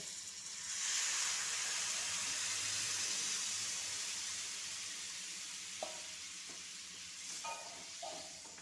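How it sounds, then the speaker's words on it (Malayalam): Squeezed tamarind water poured into a hot pan of tempering for Onam ginger curry sets off a loud, broad sizzle that slowly fades, with a few small clinks near the end. "പിഴിഞ്ഞ് വെച്ച പുളി വെള്ളം ഒഴിച്ചു കൊടുക്കാം"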